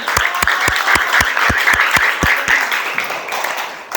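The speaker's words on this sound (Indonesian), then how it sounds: "tepuk tangan untuk Japar" Students in a classroom give a fellow student a round of rhythmic unison clapping, loud, close and evenly spaced, with a busy murmur of the group underneath.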